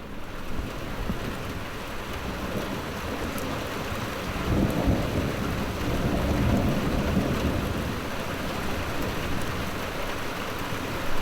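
A thunderstorm over north-west England, with steady rain falling on surfaces throughout and a deep rumble of thunder swelling in the middle before fading back into the rain.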